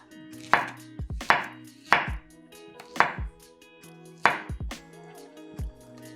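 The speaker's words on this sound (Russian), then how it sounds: "Пока готовится блин, 1 банан нарезаем пластинками." A knife slices a banana onto a cutting board, five distinct thuds at a steady, unhurried pace, close and clear.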